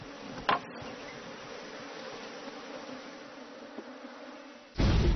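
Honeybees buzzing around a hive as a beekeeper smokes it, a faint steady hum with a couple of brief knocks, ending in a sudden louder rustle.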